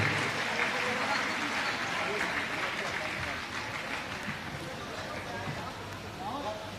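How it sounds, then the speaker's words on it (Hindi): Dense, continuous applause from a large audience at a camp closing ceremony in Ashok Nagar, loud and sustained, with a faint crowd murmur underneath, gradually easing slightly. "आपकी तालियां और बजना चाहिए।"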